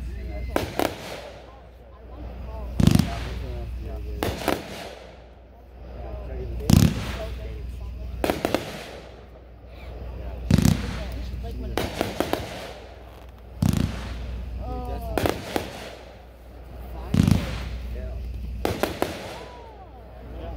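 Stiletto Knights firework cake, 42 shots, fired at a fireworks demonstration: loud, sharp reports burst in separate clusters every few seconds, each followed by crackling and a fading tail, with a voice speaking in the background.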